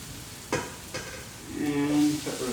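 Chopped onion, garlic and peppers hit a hot frying pan and sizzle loudly, with a couple of sharp clatters before the hiss builds steadily, no one speaking.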